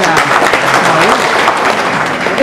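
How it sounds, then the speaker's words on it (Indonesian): A crowd claps and applauds steadily while a voice talks over the clapping, at a regent election candidates' debate in Sikka. "boleh tepuk tangan untuk Pak Vin."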